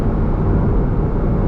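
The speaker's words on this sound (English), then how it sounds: "the sound from inside, the air induction noise, and the fact that it's right behind your head" Cabin of a Porsche GT4 RS, with the air induction roar right behind the occupants' heads: a steady, loud, low rumbling drone that fills the car, with no talk.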